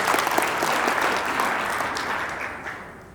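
An audience clapping at a conference, a dense burst of applause from a large crowd that gradually fades toward the end.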